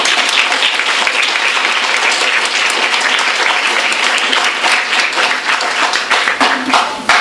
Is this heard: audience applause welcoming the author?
yes